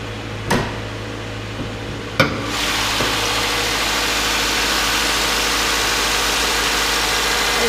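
A 2.5-liter boxer engine in a 2014 Subaru Legacy idles smoothly and steadily close by, with a couple of sharp knocks early on before the even hum settles in.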